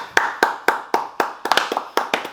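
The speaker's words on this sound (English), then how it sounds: "round of applause" Sparse, evenly spaced hand claps, roughly ten sharp close slaps in a steady rhythm, with a quick double clap near the middle, no talking over them.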